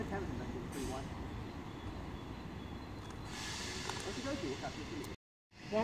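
A Class 322 electric multiple-unit train pulls away from a station, a steady broad rumble with rising motor tones, near and loud, briefly cut off near the end.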